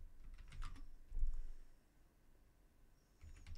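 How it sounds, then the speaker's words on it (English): A password typed on a computer keyboard, a few soft clustered key taps in short bursts with pauses, faint and close in a quiet room. "You may have to type it multiple times,"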